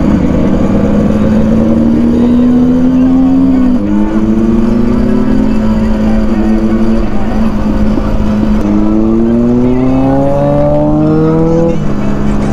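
A TVS Apache RTR 310 motorcycle pulls hard in first gear, its loud, close engine note climbing steadily in pitch, briefly dropping, then revving up again toward the top of the gear.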